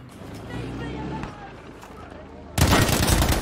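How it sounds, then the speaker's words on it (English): Gunfire in the shooter Battlefield V. Muffled background noise is followed by a sudden loud, dense burst of shots that carries on to the end. "I like the shooting sound. It sounds really nice in this edition."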